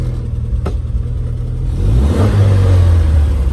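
A 1500 MG Midget engine idling close by, then blipped so the revs rise into a louder, deeper rumble that holds to the end.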